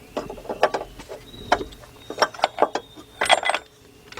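Metal clicks and clinks as a pulley is fitted onto the shaft of a Ford power steering pump, several sharp separate taps and ratcheting ticks at close range with quiet gaps between.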